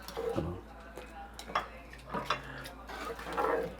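A spoon scrapes and clinks in a pot of coconut milk with garlic and ginger. A few scattered, close metallic knocks sound over a quiet background hiss.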